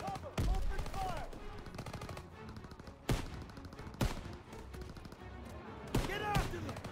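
Call of Duty WW2 video game gunfire during a battle: repeated loud rifle and machine-gun bursts crack out in several separate volleys, with soldiers shouting between them.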